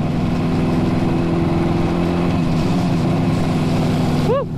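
An old Honda GT motorcycle's engine runs steadily at close range through a wet, flooded street, a constant mid-pitched drone with a brief rising squeal near the end.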